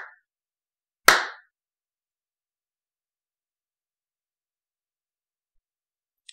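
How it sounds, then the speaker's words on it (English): A single sharp hand clap rings out once in otherwise near silence, ending with a short decay. "I'm clapping my hands."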